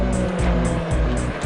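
A Ford Sierra Sapphire rally car engine at a rally stage, heard loud and close with a pulsing, uneven note that keeps rising and dropping in a rough rhythm, as if not reaching full revs, with no voices.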